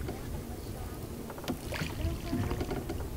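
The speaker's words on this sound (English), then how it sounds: "The engine is cut and oars are used when the boats are near the dolphins, so they are not scared away by the noise." A rowboat rowed with oars on a Cambodian river near endangered dolphins, its engine cut; soft paddle splashes and water movement sit under steady wind and outdoor ambience, with a faint distant voice.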